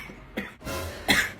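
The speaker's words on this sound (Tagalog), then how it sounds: "Parang inuubo na to" A person gives a short, close cough in two or three harsh bursts, alone without talk.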